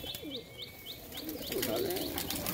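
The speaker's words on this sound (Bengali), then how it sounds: "কতগুলো পায়রা আছে এখানে?" Caged pigeons, several of them, cooing in low throaty murmurs over a run of repeated high chirps, with busy rustling and a fuller rise of cooing toward the end.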